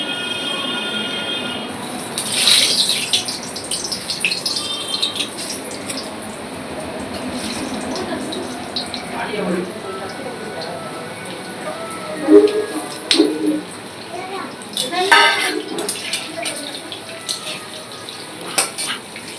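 Potatoes frying in hot mustard oil in a home kitchen, giving a steady sizzling hiss broken by sharp scrapes and clinks of a metal utensil against the pan, close and fairly loud, with no talk.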